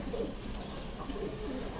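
Giribaz pigeons, including a female bird, coo softly in a low repeated murmur close by, with no talk over them.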